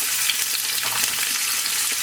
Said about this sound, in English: if you hear the sizzle from the garlic, you know it's ready